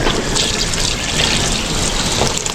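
Water pours steadily into a container, a continuous splashing rush that stays even and fairly loud for the whole stretch, with no talking.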